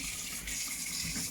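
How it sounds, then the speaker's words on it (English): Tap water runs steadily over a spoon being rinsed in a sink, a close, continuous hiss and splash lasting just over a second with no voices. "So I'm going to first of all rinse the spoon,"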